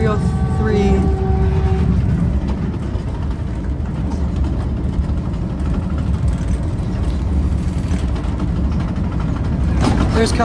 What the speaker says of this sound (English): There's Caltrain 526 passing by us.